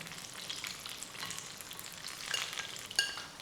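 Chicken lollipops deep frying in hot oil, a steady dense bubbling sizzle that runs throughout, with a brief louder crackle near the end and no voices.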